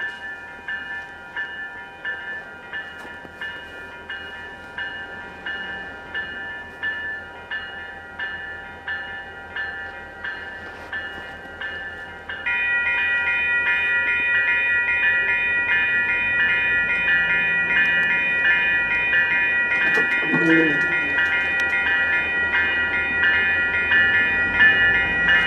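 A long freight train rumbles past steadily at a crossing with rhythmic clanking of cars on the tracks, loud and close, under a sustained ringing tone, with no voices.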